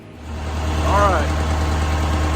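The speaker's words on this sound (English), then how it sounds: "we got the engine back in, she's running" A rebuilt Allis Chalmers 715B backhoe engine runs steadily at a loud, close idle with a low rumble and faint vibration, outdoors in the rain after a radiator reinstall; a brief higher tone rises midway.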